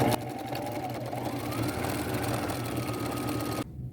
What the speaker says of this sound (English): I'll come to the next one and sew it as well.